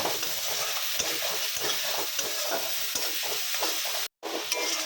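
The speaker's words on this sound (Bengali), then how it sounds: "সমস্ত মশলাগুলোকে তো আমি কষিয়ে নিচ্ছি যতক্ষণ না তেল ছাড়া হবে ততক্ষণ কষিয়ে দিতে হবে" Onion, garlic and tomato masala stir-fries in hot oil with a steady loud sizzle and rhythmic scraping strokes of a spoon, briefly cutting out near the end.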